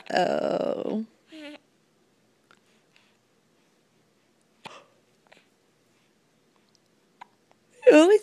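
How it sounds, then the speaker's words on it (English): A child hiccups once, softly and briefly, after an adult's voice, then near silence with faint small noises before the voice returns. "Oh, now you had the hiccup."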